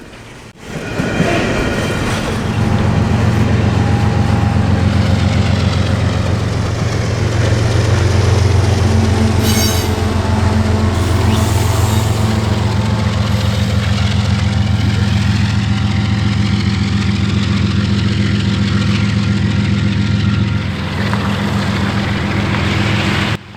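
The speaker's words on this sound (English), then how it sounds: "the DPU came into sight, the Gevo and Notch 8, pushing hard into the mountains" Canadian Pacific freight train with a GE Evolution-series distributed-power locomotive in notch 8, pushing hard up a mountain grade, gives a loud, steady, close diesel roar over rumbling rail and wagon noise for the whole stretch, with no talking.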